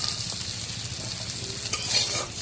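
Vegetable bhaji sizzles steadily in oil with chili, turmeric and salt, a soft continuous frying hiss with occasional light stirring scrapes and no voices.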